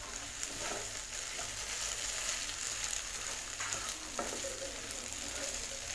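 Chicken pieces for pepper chicken sauté in an uncovered pan, giving a steady, close sizzle broken by occasional scraping stir sounds, with no talk.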